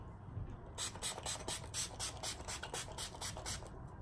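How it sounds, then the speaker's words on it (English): Setting spray misted onto a face, a run of about ten short, bright pump bursts in quick rhythm, close and fairly quiet over a low room background. "I'm just going to spray my face with setting spray"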